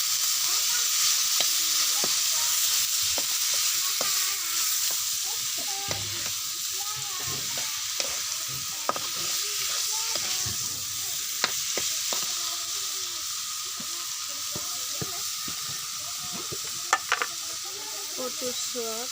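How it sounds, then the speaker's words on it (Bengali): Lentils and taro greens being stirred into frying spices: a steady close sizzle runs throughout, with frequent scraping and tapping strokes from the stirring spoon. "এখন ডাল আর শাকগুলো দিয়ে দিব। মশলাগুলো মিশিয়ে নেব।"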